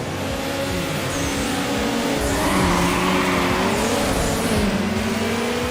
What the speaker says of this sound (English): just getting over rev on every shift